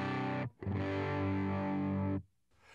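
A distorted electric guitar played through an amp turned down with an Ironman II Mini attenuator rings out in one thick, saturated chord held for almost two seconds, then cuts off sharply, with no talking.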